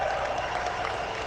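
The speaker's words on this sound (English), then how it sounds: "Give him a big round of applause for the anti-woke General." An audience at a political event breaks into steady, dense clapping, filling the brief moment at moderate loudness with no voices over it.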